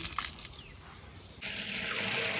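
Tap water runs steadily while feet are washed, a soft continuous splash and hiss that grows louder and fuller partway through.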